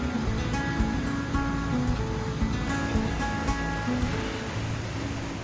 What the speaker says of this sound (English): Highest waterfall in Minnesota.